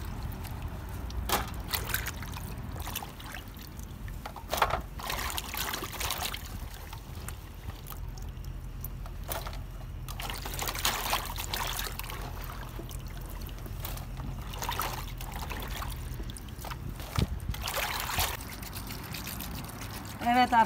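Gherkins and small cucumbers being washed by hand in a basin of water, with sloshing, trickling and splashing that comes and goes under intermittent talking.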